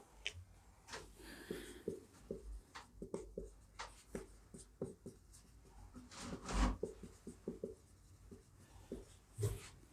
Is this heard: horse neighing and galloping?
no